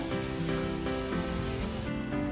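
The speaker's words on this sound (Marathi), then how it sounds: "आता आपण याच्यामध्ये कापून घेतलेल्या कैऱ्या टाकूया आता आपण हे सर्व छान मिक्स करून घेऊया" Cut raw mango pieces are sautéed and stirred in a pan for a sweet, sour and spicy mango chutney. A close, steady sizzle fills the whole stretch, with faint stirring strokes beneath it.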